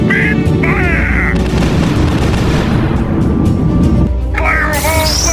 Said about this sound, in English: Ready all cannons. Open fire!